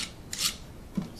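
The blunt edge of a utility knife scrapes across a plastic part for an underwater camcorder housing in two or three short, close rasping strokes, quiet and with no voices.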